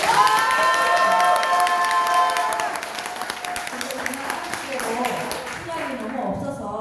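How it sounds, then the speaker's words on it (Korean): Crowd at a Democratic Party meeting in Gyeongnam claps and cheers, loud at first and then easing into scattered clapping with some calls. "다시 한번 뜨거운 박수 부탁드립니다"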